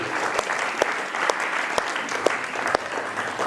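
An audience at a school social studies and biology debate claps for the winner, a steady patter of many hands with sharp individual claps standing out, loud and sustained.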